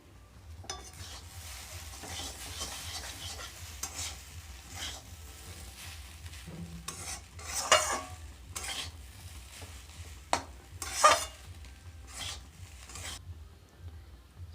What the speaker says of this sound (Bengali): এবার চাউমিনগুলোকে খুবই আস্তে করে নাড়তে হবে যাতে না কড়ায় লেগে যায়।